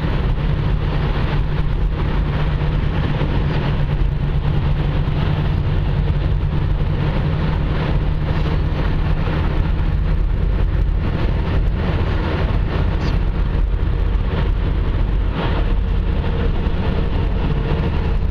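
Steady car interior rumble while driving to Old Country Buffet in Maple Grove, a constant low engine and road drone with broadband hiss throughout, no voices.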